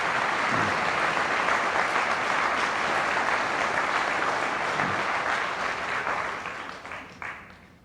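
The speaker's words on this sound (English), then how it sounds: "So a round of applause for all these former board members." Applause for former board members at a 50th anniversary dinner, a full room clapping steadily at moderate distance, then thinning out and fading in the last seconds.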